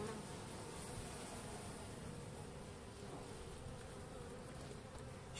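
A dense, continuous buzz of many honeybees at a hive fills the air, steady and close, with no voices, in Trabzon in January.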